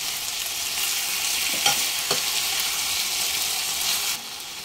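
Chopped tomatoes, soaked cashews and ginger garlic paste sizzle loudly in a pan for butter chicken, with a couple of stirring scrapes over the steady frying hiss before it eases at the end.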